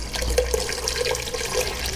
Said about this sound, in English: I did cook the chicken in some broth, and I'm going to add that to this pot along with the extra water that's going to be needed